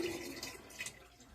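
Butterbeer mixture is poured into a keg, a short close splash of liquid that trickles and fades away.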